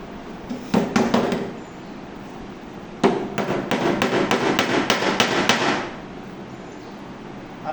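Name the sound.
fitting a screw into a sewing machine table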